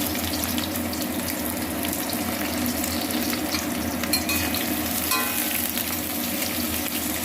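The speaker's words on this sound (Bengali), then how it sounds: "এখন আমি দিয়ে দেবো পেঁয়াজ, ভেজে রাখার জন্য পেঁয়াজটা দিয়ে দেব।" Onions frying in oil in a pan make a steady, close sizzling hiss that runs through the whole stretch, with a few faint clinks of stirring and no talking.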